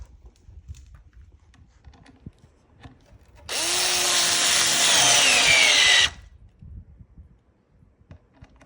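A power driver whirs loudly for about two and a half seconds, sinking a screw into the side of a Yaheetech potting bench, close by, with quieter handling knocks before and after.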